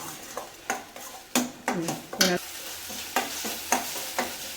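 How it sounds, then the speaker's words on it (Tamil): Gongura (sorrel) leaves being sautéed in a pan, with repeated stirring scrapes and soft sizzling in a steady rhythm of distinct strokes, close and moderately loud, no talk. "இது நல்லா பச்சை வாசனை போகிற வரைக்கும் நல்லா வதக்கிக்கோங்க"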